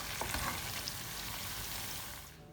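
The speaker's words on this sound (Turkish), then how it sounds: "Ve ikinci partiyi de kızartmaya devam edeceğim." Steady, moderately loud sizzling of liver frying in hot oil, a dense hiss with a few crackles, fading slightly at the end.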